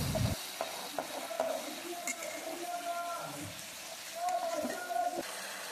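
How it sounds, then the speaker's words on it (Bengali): Tomato frying in spiced masala for aloo dum, with soft sizzling and intermittent spoon scrapes and stirring knocks in the pan, fairly quiet and close. "এখন টমেটোটা দিয়ে ভালোভাবে কষিয়ে নেব"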